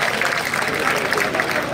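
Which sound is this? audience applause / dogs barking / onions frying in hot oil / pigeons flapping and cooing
audience applause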